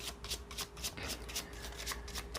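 A Gypsy oracle deck (baralho cigano) being shuffled by hand, quick papery riffles and flicks repeating in a brisk rhythm, close and soft in a quiet room.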